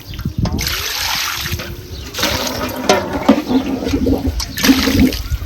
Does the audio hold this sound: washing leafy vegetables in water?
yes